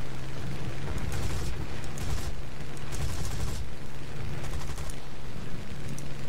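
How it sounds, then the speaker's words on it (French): Anti-aircraft fire in War Thunder crackles as dense bursts of rapid gunfire over a steady engine drone, sustained and moderately loud throughout, with no talking. "Pourquoi les antiaériens me tirent sur moi?"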